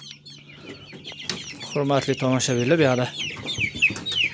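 Young home-raised chickens, including Tojon, Adler, Jersey Giant and Leghorn birds with a cockerel, cluck and chirp nearby in a rising flurry of calls, while someone speaks over them.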